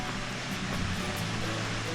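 An artificial waterfall at a Thai cave temple rushes steadily as a dense, even wash of falling water, close and continuous with no pauses and no voices.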